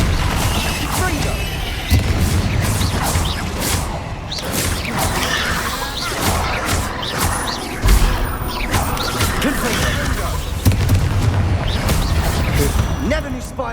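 Repeated Confringo fire spell blasts crack and boom in the Hogwarts Legacy video game, a dense run of explosive bursts and whooshes layered over continuous combat noise and character vocal effects.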